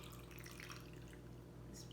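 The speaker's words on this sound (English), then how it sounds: "Just pouring me a glass." Water poured into a drinking glass at room temperature, a steady close trickle running on for a couple of seconds with no talk over it.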